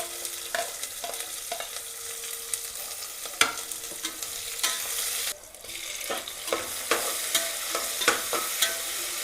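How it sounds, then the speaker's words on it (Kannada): Chopped onions and green chillies being stir-fried for pulao, a close sizzle broken by repeated sharp scrapes and clacks of a spoon against the pan, with one brief quieter pause midway. "ಎಲ್ಲನೂ ಹಾಕಿ ನೀಟಾಗಿ ಒಂದು ಲೆವೆಲಲ್ಲಿ ಫ್ರೈ ಮಾಡ್ಕೊಂಡ್ಬಿಡಿ ನೀಟಾಗಿ."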